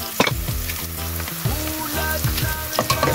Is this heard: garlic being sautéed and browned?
yes